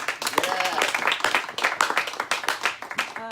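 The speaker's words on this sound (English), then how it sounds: "So another big round of applause, please" An audience at a spoken word evening applauds in a brisk, crowded patter of hand claps, fairly close, with voices mixed in.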